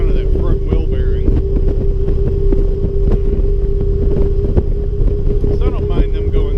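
A motorcycle's worn front wheel bearing heard while riding on the road: a steady droning whine with a fixed tone runs under heavy wind rush and engine rumble, with a voice talking over it.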